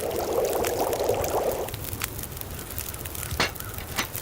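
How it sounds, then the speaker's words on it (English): Water being boiled in the video game The Long Dark: a short rushing bubbling burst in the first second and a half, then quieter game ambience with a few sharp clicks, and no talk. "Gonna boil up some water, because that's exactly what I need."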